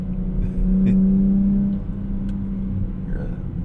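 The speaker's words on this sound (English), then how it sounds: "A nice amount of engine sound up in here." 2024 Nissan Z Nismo engine heard from inside while driving, a steady low drone with a brief rise in pitch as it revs, then settling back into a rumbling cruise.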